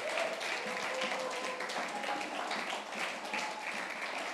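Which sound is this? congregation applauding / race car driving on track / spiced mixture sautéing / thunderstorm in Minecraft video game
congregation applauding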